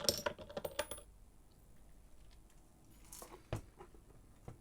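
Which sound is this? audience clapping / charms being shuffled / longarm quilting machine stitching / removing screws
charms being shuffled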